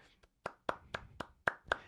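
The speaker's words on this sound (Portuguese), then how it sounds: "É para aplaudir, galera." Hand clapping, about seven distinct claps in a steady rhythm, close and fairly quiet, with no other sound around them.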